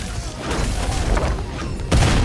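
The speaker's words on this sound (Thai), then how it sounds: "โอ้ระเบิดครับ" Explosions rumble through a zombie raid in the video game Devil Hunter, a dense, loud low roar of blasts that peaks with a sharper boom near the end, with no talking over it.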